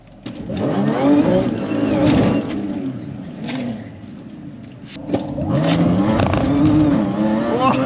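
Loud engines of an Audi B8 S4 and an Audi RS3 roar and rev close by in a quarter-mile drag race, surging and falling as they accelerate, with a brief dip before rising again.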